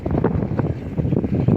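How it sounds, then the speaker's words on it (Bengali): A trawler boat's engine on a river throbs as a low, rumbling drone, blended with wind buffeting the microphone, steady and fairly close, with no voices. "ট্রলার আইসা পড়ছে"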